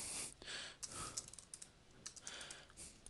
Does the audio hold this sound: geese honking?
no